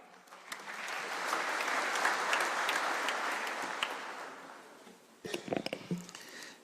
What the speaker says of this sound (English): let's welcome him with a clap